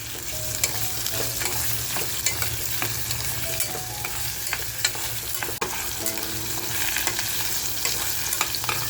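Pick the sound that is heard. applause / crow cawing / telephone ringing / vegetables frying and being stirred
vegetables frying and being stirred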